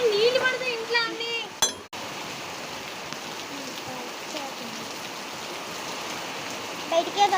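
Heavy rain falling outside a house as a door is opened, a steady hiss of rain after a sharp knock, with a voice talking briefly at the start.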